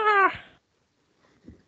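A cartoon cat in the Webkinz online game gives a single clear, close meow with a falling pitch, followed by a short quiet gap and a faint soft rustle.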